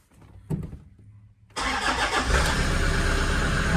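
A car engine cranks and catches after a quiet start with a couple of small knocks, then settles into a loud, steady running rumble close by.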